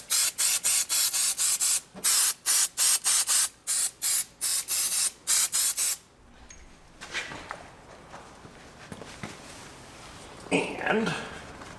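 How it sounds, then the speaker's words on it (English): Fluid Film rust protectant sprayed from an aerosol can onto a car battery tray, loud close hissing bursts in a rapid string of short pulses, then quieter handling noises afterward. "we'll give the tray a toot of fluid film, kind of keep it from rusting"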